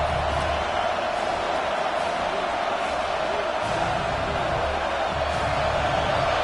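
A home crowd roars in a college football video game featuring Oregon, a steady, loud wash of cheering that fills the whole stretch without a break.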